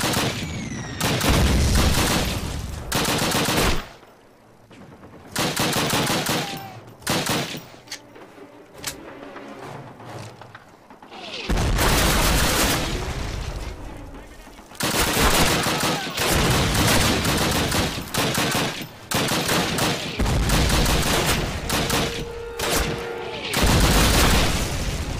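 An MG42 machine gun in Call of Duty fires long, loud, rattling bursts broken by short pauses, mixed with other gunfire and explosions across a noisy battlefield.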